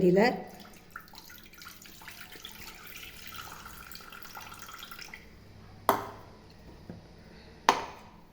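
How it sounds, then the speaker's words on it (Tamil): Water drained from soaked black kavuni rice streams through a strainer into a pressure cooker, a soft continuous trickle followed by two sharp metallic knocks against the vessel, with a voice speaking over parts of it. "இந்த தண்ணியை வந்து குக்கர் செட்டில் வடிகட்டிக்கலாம் இது கீழே ஊற்ற ஊற்ற"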